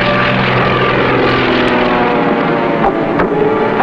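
Propeller aircraft drone loudly overhead, a steady throbbing engine roar with a slight rise and fall as they pass.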